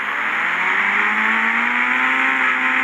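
A KTM motorcycle engine in the Indian Bike Driving game revs loudly and steadily, its whining pitch climbing slowly across a few seconds with no voices over it.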